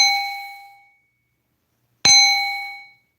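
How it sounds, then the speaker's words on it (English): A small hand bell is rung twice: a bright ringing strike that fades over about a second, then after a pause a second louder strike with a sharp attack, decaying slowly, with no talk. "We're going to ring a little bell."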